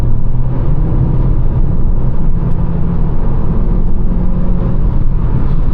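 A Volkswagen CC Sportline with a 1.4 TSI 160 hp engine drones steadily while being driven, a loud, constant low engine and road rumble with no talking.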